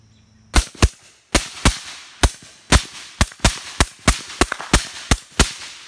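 Rapid string of about a dozen sharp, loud reports from a suppressed .300 Blackout rifle firing supersonic rounds, each crack short and percussive with brief decay, spaced irregularly over several seconds with no talk.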